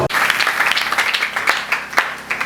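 Church congregation applauding during a Tuesday prayer service, a dense wash of clapping sustained throughout with a few sharper claps standing out.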